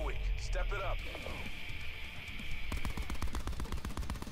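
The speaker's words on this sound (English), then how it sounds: "His gun went shoot, shoot." Automatic gunfire from a Call of Duty: Black Ops 4 match, with dense rapid bursts that thicken into steady rattling in the second half, layered over game ambience and background voices.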